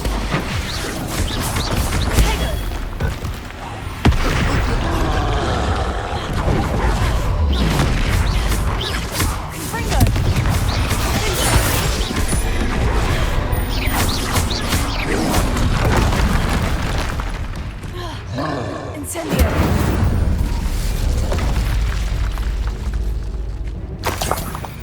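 Expulso explosion spell blasts in Hogwarts Legacy combat: loud, booming bursts and crashes over a constant dense wash of game noise and effects, continuing throughout.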